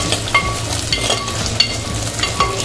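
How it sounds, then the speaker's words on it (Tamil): Onion and garlic fry in a pan while being stirred, a close crackling sizzle broken by sharp scrapes and clinks of a ladle against the metal. "இப்போ நம்ம வெங்காயத்தையும் சேர்த்துருவோம். சேர்த்து நல்லா கிண்டி வச்சுருவோம்."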